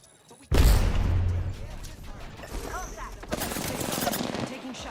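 Rapid video game gunfire bursts loud and close after a brief quiet start, with booming impacts and intermittent crackling shots continuing throughout, while a voice speaks briefly over the action.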